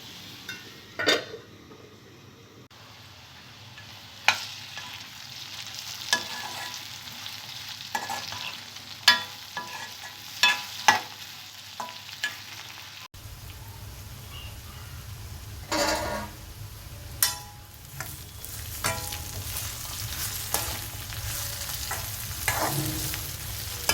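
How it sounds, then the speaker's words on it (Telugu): Brinjal pieces cooking on low heat in a covered pan, with a soft sizzle running throughout, broken by intermittent clinks and scrapes of a spoon stirring against the pan; no talk. "వంకాయ ముక్కలు వేసిన తర్వాత మూత పెట్టి సిమ్లో ఈ వంకాయ ముక్కల్ని బాగా మగ్గనివ్వాలి."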